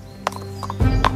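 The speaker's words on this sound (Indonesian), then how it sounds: "Kuda Raja Siling berhenti di dekat semak mulberry dan raja jatuh ke tanah." A king's horse approaching on a path, hooves clip-clopping in an uneven rhythm that grows nearer and louder toward the end, with a faint snort and no talk.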